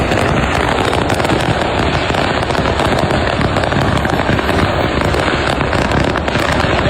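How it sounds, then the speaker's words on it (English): Fireworks truck blowing up on a busy highway, a dense, continuous barrage of crackling bangs and pops, loud and unbroken throughout, like rapid firecracker and gunfire bursts, no voices. "a fireworks truck blowing up on a busy highway"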